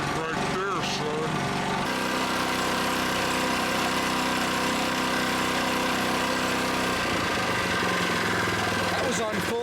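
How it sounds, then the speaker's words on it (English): A new Predator 79cc small gasoline engine runs steadily nearby with a buzzing, even drone, a brief rougher burst at the start and a slight change in tone near the end. "That's a smooth running engine right there"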